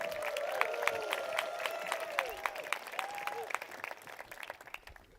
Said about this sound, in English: please stand up and everybody gives them a round of applause